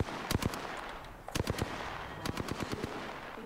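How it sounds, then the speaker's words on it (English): Automatic gunfire in the video game Apex Legends comes in quick bursts of sharp, distinct shots, several clusters spread across a few seconds, moderately loud over a faint background. "Oh, she's shooting at him."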